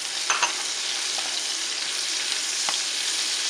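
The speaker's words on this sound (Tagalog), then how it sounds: "Lagyan natin ang ating sibuyas." Garlic and onion sauté in a pan for a fiddlehead fern dish, giving a steady close sizzle with a few sharp scraping stirs near the start and one more later, no talking.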